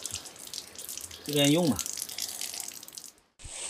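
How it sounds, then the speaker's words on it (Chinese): An outdoor faucet near Zhangjiajie's Xianren Creek runs with a weak, low flow, giving a steady thin hiss of trickling water throughout, with a brief spoken phrase midway. "然后这边的水龙头能用，就是水量比较小"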